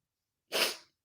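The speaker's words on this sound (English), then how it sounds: "I'm gonna sneeze." A single short sneeze, close and sudden, after a moment of silence, then quiet again.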